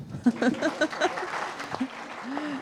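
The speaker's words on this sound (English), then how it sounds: "Yes, we can go ahead and clap." Scattered audience applause at a youth engagement forum in Kenya, light clapping mixed with voices talking over it, moderately loud and close.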